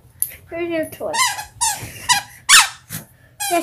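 A squeaky toy squeaks repeatedly in short bursts, mixed with a person talking and faint dog noises nearby.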